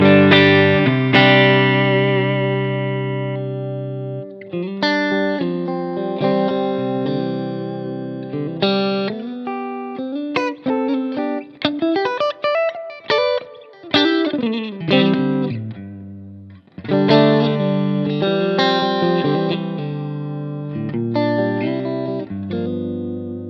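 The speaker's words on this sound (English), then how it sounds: "I'll have just a sort of a standard hall reverb that I've set up." Sustained electric guitar chords and melodic runs through a Strymon Iridium's standard hall reverb ring out with a spacious, washy reverb tail, played alone at steady volume with brief pauses.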